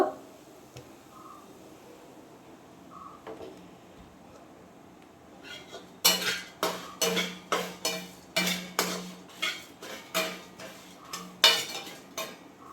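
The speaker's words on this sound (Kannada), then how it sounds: "ನೋಡಿ ಈ ರೀತಿ ಮಸಾಲ ಹುರಿಬೇಕು" Masala being stirred and roasted in a pan for okra sambar, first a quiet stretch, then a rhythmic series of sharp spoon scrapes and clinks against the metal, about a dozen strokes, with faint talk early on.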